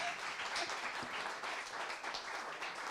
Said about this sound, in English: Give these ladies a hand clap.